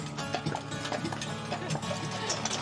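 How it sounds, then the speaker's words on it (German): Shire horses' heavy hooves clip-clop in an irregular rhythm close by, mixed with rattling and creaking from the carriage they pull through the countryside, with no talking. "Seit Nadine den Kutschenführerschein hat, werden Harvey und Braden regelmäßig angespannt und ziehen Kutschen durch die Landschaft."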